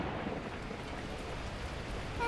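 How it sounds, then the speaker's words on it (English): Torrential rain pours in the video game Beacon Pines, a dense, steady hiss of downpour that stays moderately loud throughout the short moment. "At that moment, the heavens opened up, unleashing torrential rain."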